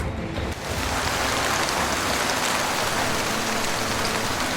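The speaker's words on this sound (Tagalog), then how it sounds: "kasabay ng tuluyan ng pagbuhos ng ulan" Heavy rain pours down in a dense, steady roar of drops, loud and continuous throughout with no voices, used as a storm effect in a horror story.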